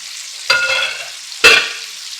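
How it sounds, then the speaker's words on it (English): Liver hits a hot frying pan twice with loud sizzling bursts, each fading into a steady crackling fry as it sears. "I'm just going to let that sear for a minute and cook on one side"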